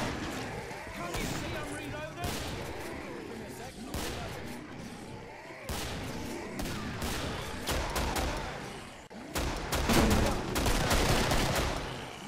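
Revolver gunfire in the video game Killing Floor during a co-op match: repeated loud shots and bursts of game combat noise pile up in dense, uneven clusters throughout.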